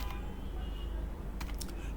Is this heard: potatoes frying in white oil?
no